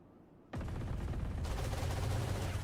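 Sustained automatic gunfire from an Odin machine gun in the Valorant video game, a loud dense rattle that bursts in abruptly and keeps hammering without pause, with a turret also in play during a competitive match.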